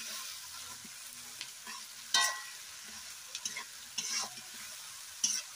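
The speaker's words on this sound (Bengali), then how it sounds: "পেঁয়াজটা ভাজা হয়ে গেছে, কাঁচা টমেটোগুলো দিয়ে দিলাম, একটু লবণ দিয়ে ভালো করে নেড়ে মাংসটা রেডি করবো।" Fried onions, raw tomatoes and desi chicken are stirred in a pan for curry, a soft sizzle beneath intermittent sharp spatula scrapes and clinks, fairly quiet and close, no talking.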